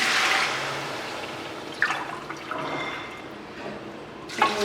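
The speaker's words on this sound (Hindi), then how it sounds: "ये देखिए मैं 2 कप पानी इसके अंदर ले रही हूँ।" Two cups of water are poured into a pot of meat and masala while making Afghani Kabuli pulao, giving a washing, splashing rush that settles into a softer trickle with a couple of brief sharper splashes.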